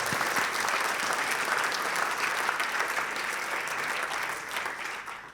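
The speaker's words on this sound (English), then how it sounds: "So a quick round of applause for the foundation." Audience at a liberty forum pitch competition in Europe gives sustained, dense applause for a foundation, a full, even roar of many hands clapping at steady loudness for over five seconds, fading slightly at the end.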